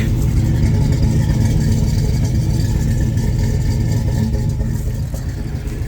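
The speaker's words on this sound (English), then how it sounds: "I know some of you want to just hear the exhaust in the back." A deep LS V8 exhaust on a Jeep rumbles loudly and steadily nearby, a throaty low burble that eases slightly toward the end.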